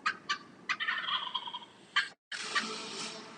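A wild turkey tom gobbles loudly in several rapid rattling bursts, close and clear, with a brief gap before a final long gobble.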